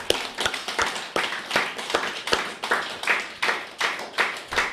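An audience at a spiritual meditation talk claps in a rhythm, producing distinct sharp bursts in a steady pulse that stays fairly close and moderate in loudness, with no talking over it.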